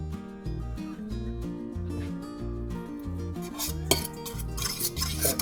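Black pepper and Nature's Own seasoning being stirred together in a bowl as a shrimp breading, soft scraping and clinking of a utensil against the dish over steady low background music.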